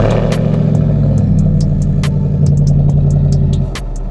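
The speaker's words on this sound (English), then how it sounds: "we're gonna give it a few revs with the valves completely closed" A deep supercharged V8 in a Ford Raptor pickup revs up and down with exhaust valves closed, giving a muffled, throaty note and some mechanical clatter, then settles toward idle.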